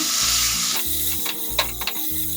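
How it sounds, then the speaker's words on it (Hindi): Paneer dropped into melted butter in a pan sizzles and crackles loudly, a bright hiss with a few sharp spatters, while a low tonal hum runs underneath. "इस प्रकार बटर में पनीर डाल दें।"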